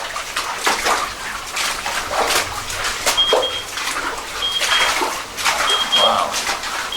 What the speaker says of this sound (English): sounds like a waterfall up here